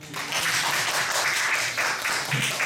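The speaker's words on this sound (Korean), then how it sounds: "이거 박수 치던데." A congregation applauds during a Korean church sermon, a dense and steady rush of clapping that holds for a few seconds with slight pulses and no speech.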